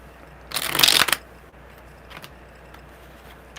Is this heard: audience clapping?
no